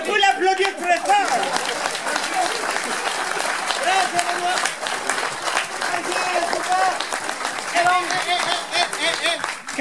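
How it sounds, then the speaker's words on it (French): A large audience applauds loudly and steadily for the full stretch at a circus-style show, a dense wash of clapping hands with scattered cheers and voices mixed in. "On peut l'applaudir très fort."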